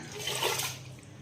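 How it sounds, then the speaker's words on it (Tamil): Soaked barnyard millet and water poured into a pressure cooker, a brief soft splashing gush that swells and then tapers off, quiet and close, with no talking. "நான் வந்து அப்படியே குக்கரில் ஊற்றிக்கிறேன்"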